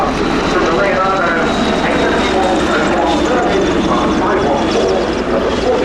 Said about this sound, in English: So there's a final pass from the Leonardo